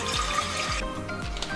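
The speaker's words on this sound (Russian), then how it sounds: "наливаем в кастрюлю воды" Water is poured into a saucepan for cooking quinoa, making a steady splashing, running stream with repeated lower gurgles as the pan fills. It sounds close and moderately loud, with no talking.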